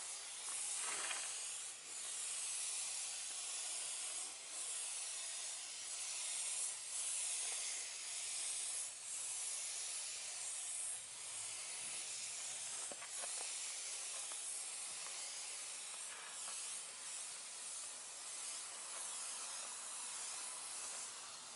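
A spray gun lays coats of paint on a car during a mobile auto body dent repair, giving a steady close hiss that runs almost without a break, with only small dips and no talking.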